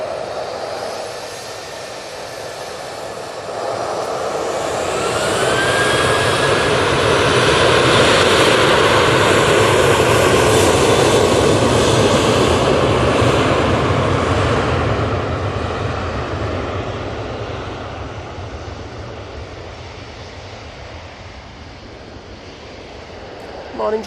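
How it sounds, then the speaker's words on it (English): An Etihad Airways Boeing 737-800 jet at Manchester Airport swells into a loud, broad roar over several seconds, peaks mid-way, then slowly fades, with faint wind noise throughout. "It's the Etihad Airways 737-800."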